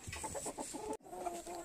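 Roosters and hens in a chicken coop cluck in quick repeated bursts, close and moderately loud, followed by a short pause and more drawn-out clucking.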